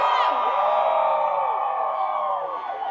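A large crowd at a Bahrain Grand Prix fan event cheers and whoops loudly, a sustained roar of many voices with high shouts rising over it.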